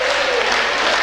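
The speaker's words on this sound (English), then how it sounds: "you can hear the crowd" A wrestling-match crowd cheers and claps in a steady, dense roar that fills the arena, loud and continuous.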